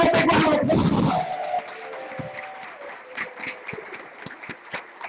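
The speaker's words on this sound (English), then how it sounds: "Give a big round of applause." An audience at the 2013 Parsec Awards claps loudly for about a second, then the applause thins to scattered claps under a sustained tone.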